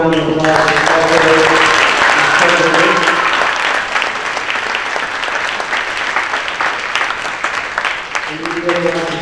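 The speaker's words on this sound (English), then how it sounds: "Can we give them one more round of applause?" An audience gives a round of applause for high school students at a spaghetti dinner. Loud, dense clapping mixes with voices and some tonal sound at the start and end.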